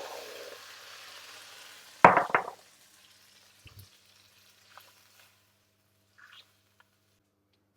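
Stock poured into a hot roasting pan after roasting chicken, a short faint sizzle, then a sharp burst of hissing steam for about a second that dies to near silence with a few soft knocks.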